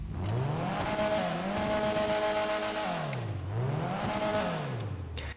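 A Vulcar Warrener HKR car engine in GTA Online revs up and down in two sweeping cycles, loud and close, with brief squeals mixed in.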